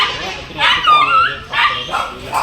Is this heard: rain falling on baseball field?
no